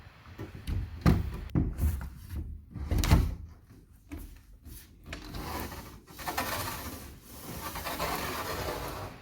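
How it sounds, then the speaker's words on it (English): A sliding glass door is worked into its frame during roller replacement, producing a series of uneven knocks, thumps and scraping rubs of glass and metal, close and irregular, with no talk. "just enough that you can get the door to slot into the door frame"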